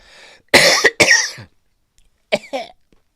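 A man coughs sharply several times close up, two loud hacking bursts followed after a pause by two shorter, weaker coughs, with silence between.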